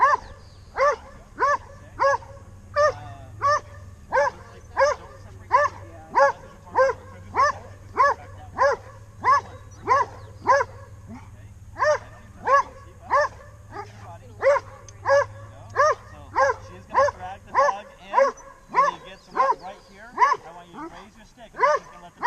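A protection dog barks rhythmically during bite training, a long run of loud, close, evenly spaced barks with brief pauses, over a low hum.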